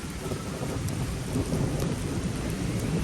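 Heavy rain pours down steadily outdoors, a dense continuous hiss filling the scene close by, with no voices and no distinct thunder claps.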